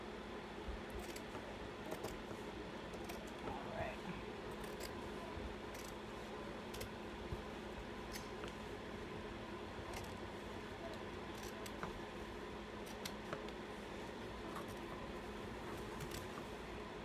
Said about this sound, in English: I still have to cut the batting.